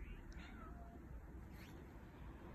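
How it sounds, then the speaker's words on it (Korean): A cat meows a few times faintly and at a distance, set against steady loud low rumble and background noise outdoors, likely a stray cat visiting a home in Korea. "우리 집에 오는 고양이"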